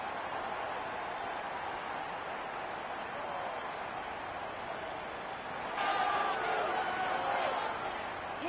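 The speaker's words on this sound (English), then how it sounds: "And hasn't this crowd enjoyed it?" Stadium crowd in the FC 26 video game on PS5, a steady roar of fans swelling louder into cheering after a derby goal, sustained and broad throughout.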